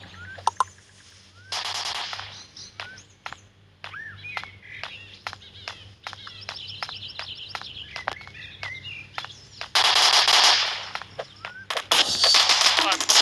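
Explosions in a video game, with a couple of loud bursts among rapid clicks and gunshot-like pops, and no talking.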